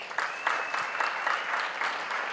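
A graduation audience claps for professors, steady crowd applause with many overlapping hand claps sustained at moderate level from start to finish.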